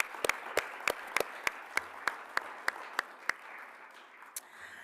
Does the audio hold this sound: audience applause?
yes